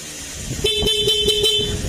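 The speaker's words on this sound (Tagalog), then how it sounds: "tapos yung busina" A motorcycle horn beeps in a quick series of about five short, evenly spaced toots over a steady engine hum.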